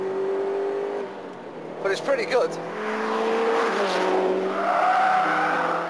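Tuned car with redesigned suspension, driven on the road in 4th gear from 3,000 revs, its engine note building steadily under acceleration after a brief burst of tyre or skid noise, with someone talking over it.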